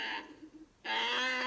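A bear growls close by: a brief rough grumble, a short pause, then a longer sustained throaty growl. No talking accompanies it.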